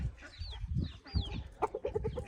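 A chicken clucks close by in a quick run of short notes, with scuffling and a few high chirps mixed in.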